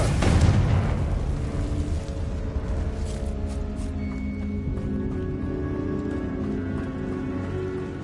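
In a Harry Potter video game, a Confringo spell blasts out a loud, deep explosive boom at the start, and its rumbling, crackling debris carries on for several seconds afterward.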